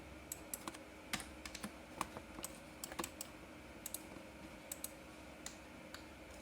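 Typing on a computer keyboard while working in 3ds Max, with a steady run of light, crisp key clicks at an irregular pace and a few louder taps, close and quiet, with no talk.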